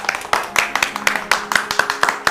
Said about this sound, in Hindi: प्रताप भाई साहब जी का तालियों के साथ स्वागत कीजिए